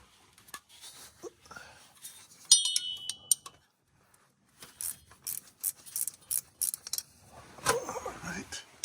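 A transmission hose line fitting on a 2015 Chevy Tahoe LT with a 6L80 transmission is tightened with a hand tool, making short metallic clicks and ratcheting bursts separated by pauses and some clinking, with close, moderately quiet handling noises.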